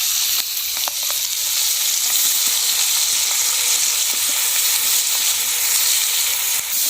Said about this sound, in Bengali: এবার মাছগুলো দিয়ে একটু ভেজে নেব, খুব বেশি সময় নয়, 10 থেকে 20 সেকেন্ড মতো মাছটা নেড়ে নেব।